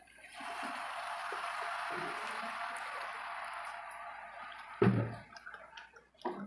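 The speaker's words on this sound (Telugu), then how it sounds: "ఇప్పుడైతే వాటర్ యాడ్ చేద్దాము." Water poured into jowar flour for roti dough makes a steady rushing stream for about four seconds, followed by a single sharp knock and softer handling sounds.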